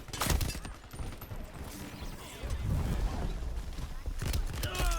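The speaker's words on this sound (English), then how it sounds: "this freaking little shotgun is just a beauty" Shotgun blasts in the shooter game Shatterline, several sharp booming shots at uneven intervals with mechanical clacks between them, mixed with game effects and a voice talking.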